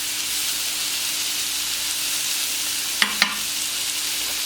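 Cajun-spiced chicken fillet and vegetables fry on a hot plancha with a steady, close sizzling hiss, broken around the middle by two quick scraping knocks of a spatula, no talking.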